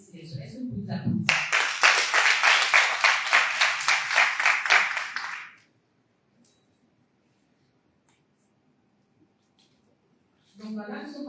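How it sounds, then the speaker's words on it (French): A group applauds themselves at a community meeting about improved cookstoves, a burst of dense clapping lasting about four seconds after brief talk, then silence before a voice resumes. "Est-ce que vous pouvez vous applaudir?"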